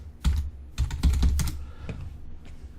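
Someone types a password on a computer keyboard, close and crisp, with two quick bursts of key clicks and a few lighter taps trailing off, and no talk.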